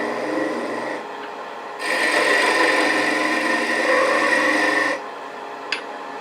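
A wood lathe turns a finial for an ornament, giving a steady scraping rasp of the tool on spinning wood that swells louder midway, then eases back to a quieter hum with a brief click near the end.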